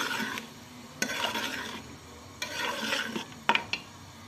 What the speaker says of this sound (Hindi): इसको हम अच्छी तरह भून लेंगे।